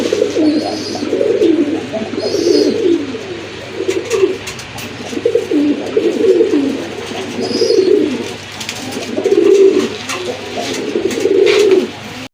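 Kashmiri racer and fancy pigeons cooing in a loft, repeated low throaty coos in rolling bursts close by, with a few higher chirps in between.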